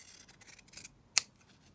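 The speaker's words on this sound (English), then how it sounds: "I think I might have to trim that down a bit." Scissors trim fabric for a paper clip craft: faint soft rubbing and slicing strokes, then a single crisp, sharp snip, all quiet and close with no talking.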